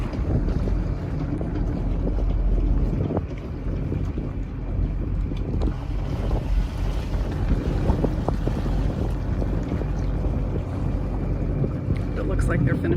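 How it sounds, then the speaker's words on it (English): Gusty wind buffets the microphone on a boat held against a fuel dock on a windy day, a steady loud roar with low rumbling throughout, while a voice talks over it. "And it's a windy day, so keeping her in steady is a little bit of a challenge."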